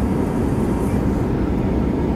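Airplane cabin noise during turbulence in flight, a loud steady low roar that fills the cabin without breaks, with no talk over it.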